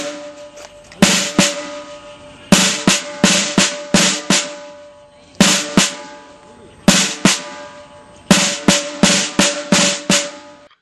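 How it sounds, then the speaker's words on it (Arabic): Drum hits in a kindergarten English lesson demo, played in repeated bursts of quick strokes separated by short pauses, loud and clear with no talking. "وطبعا صوت الدرام هو ده."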